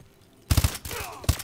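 Gunfire in a Call of Duty Advanced Warfare campaign mission: a sudden burst of three rapid heavy shots, a short rattling tail, then one more loud shot close up.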